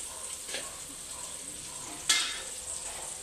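Garlic frying in margarine for a crab dish, giving a low steady sizzle with a brief sharper flare of crackle partway through, close and fairly quiet, with no talking.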